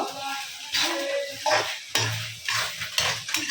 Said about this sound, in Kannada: ಅದನ್ನು ಈಗ ಕ್ಯಾಪ್ಸಿಕಮ್ ಮತ್ತು ಈರುಳ್ಳಿನ ಬಾಡಿಸ್ಕೊಂಡಿದ್ವಲ್ಲ ಅದರೊಟ್ಟಿಗೆ ಹಾಕ್ಕೊಂಡು ಇನ್ನೊಂದೆರಡು ನಿಮಿಷದ ವರೆಗೂ ಇದನ್ನು ಮತ್ತೆ ಈ ರೀತಿ ನೀಟಾಗಿ ಆಡಿಸ್ಕೋತಾ ಇರೋದು